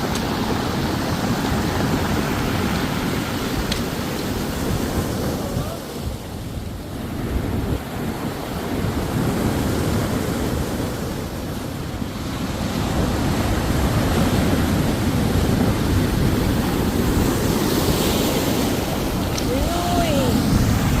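Ocean waves break on a beach in Quezon, a continuous loud roar of surf with heavy wind buffeting the microphone, the wash swelling and easing over about twenty seconds, with faint voices in the background.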